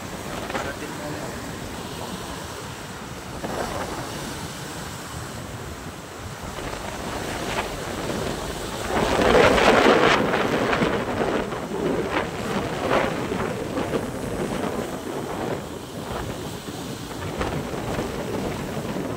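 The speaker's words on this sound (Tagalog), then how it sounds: "nalulubog sa alon, malakas kasi yung alon mga yan o" Strong sea waves swamp small outrigger boats, heard as a steady roar of surf and wind with a louder crash near the middle; a voice speaks over it.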